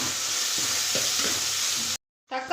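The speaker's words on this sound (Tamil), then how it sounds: "இப்போ தக்காளி சேர்த்துக்கலாம் வந்து மிக்ஸ் பண்ணி விட்டுக்கலாங்க" Tomatoes and onions sizzle and crackle steadily in a hot pan with faint stirring scrapes, then the sound cuts out briefly before a short burst returns.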